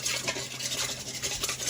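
A whisk stirs flour and cold water into a slurry in a bowl, giving a quick, continuous scraping and swishing close up.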